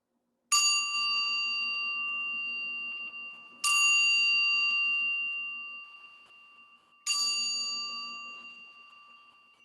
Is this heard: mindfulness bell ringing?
yes